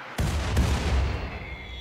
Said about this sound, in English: We've kept up the constant shelling.